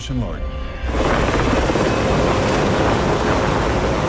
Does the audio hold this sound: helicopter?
yes